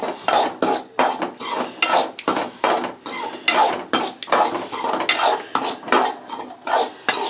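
Semolina (rava) is stirred continuously while it roasts in a pan, giving steady rhythmic scraping and clinking of a utensil against metal, repeating about twice a second, close and fairly loud, with no voices.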